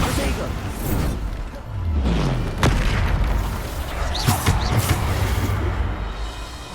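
Bombarda spell blasts in the video game Hogwarts Legacy, a run of booming explosions and whooshes going off in quick succession over dense game music and effects, loud and close.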